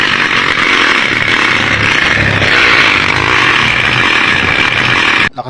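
A bicycle rigged to sound like a motorbike rattles out a loud, continuous buzzing engine-like clatter that holds for several seconds before cutting off abruptly, with no talking.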